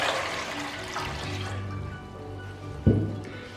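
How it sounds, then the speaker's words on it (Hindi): Water is poured into a cooking pot for a peach punch, a soft splashing fill that fades after a moment, followed by a single sharp knock near the end. "सबसे पहले हम पॉट में 1 लीटर पानी डालेंगे।"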